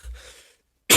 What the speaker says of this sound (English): Having a bad cough.